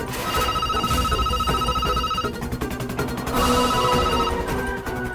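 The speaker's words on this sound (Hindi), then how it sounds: "कभी फोन बज रहा है" A telephone rings with a bright, electronic trilling tone, repeating in bursts with a brief pause before ringing again, loud and close, no voices.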